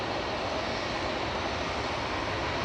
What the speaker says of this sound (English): Aer Lingus next up for departure, heading back over to Dublin with flight 203.